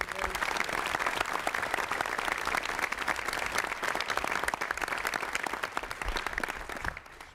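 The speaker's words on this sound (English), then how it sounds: "Give another round of applause to Mayor Bill de Blasio for being here today." Continuous audience applause for Mayor Bill de Blasio at a conference on NY Rising community reconstruction plans, dense and steady before tapering off at the end.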